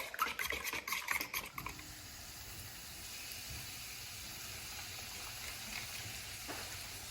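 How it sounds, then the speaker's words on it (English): Egg being whisked in a bowl for King's Hawaiian roll French toast, a quick burst of clattering utensil strokes against the bowl at first, then settling into faint, softer stirring under low kitchen background noise. "add in the egg. That would have been bad. And just whisk that up."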